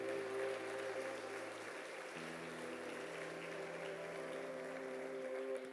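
A church congregation applauds during a Sunday communion service, steady sustained clapping from a crowd filling the room, with a sustained organ or keyboard chord holding underneath throughout.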